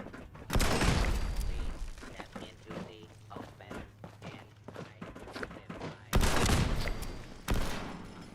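Turrets in Fallout 76 fire in two loud bursts, one near the start and another near the end, with quieter thuds, footsteps and game sounds in between.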